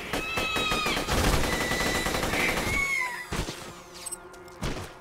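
Shotgun fire in Borderlands 2 pounds out in rapid, punchy blasts mixed with the squealing, meow-like cries of creatures, followed by a few scattered heavier shots as the fight thins out.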